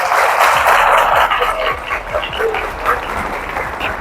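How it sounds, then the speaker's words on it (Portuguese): A church congregation applauds at the end of a sermon, a steady wash of many hands clapping together, loud and sustained, with a few scattered voices calling out beneath it. "Aplauda o Senhor Jesus."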